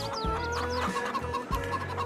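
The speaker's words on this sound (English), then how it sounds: "So we've got 4 lots of chickens in here, like the 4 different pens, all in the shed." A shed full of chickens clucking and chattering continuously, many birds at once, with a steady background hum.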